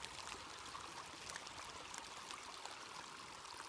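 A culvert on the Starr trail pours water past stones set in front to slow it, a continuous broadband rush that stays even and fairly close throughout, with no voices.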